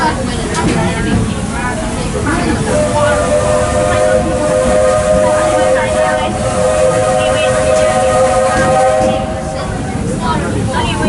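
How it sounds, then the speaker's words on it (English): The Walt Disney World Railroad steam train whistle sounds as a long, steady sustained tone over rumbling train noise, loud and close, with voices in the background, at Magic Kingdom. "There are some who say that this steam train is a little old-fashioned"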